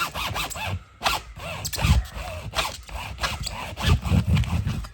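A plastic shower door sweep, a brittle strip, is cut down by hand, giving repeated close rasping and snipping strokes in an uneven rhythm with short pauses and no talking.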